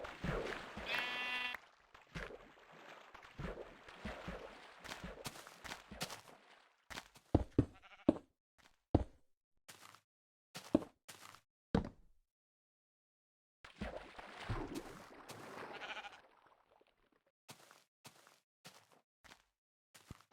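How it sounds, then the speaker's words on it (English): Sheep in a Minecraft-style block game bleat several times in short, separate calls mixed with footstep thumps and game sounds, with a person talking now and then. "Sheepy."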